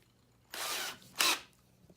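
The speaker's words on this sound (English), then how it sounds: "we'll drill it the depth of the head" Two bursts of drilling into wood with a Forstner bit, cutting a countersink the depth of a screw head: one longer whirring run followed by a short, sharper one, close and fairly loud against a quiet background.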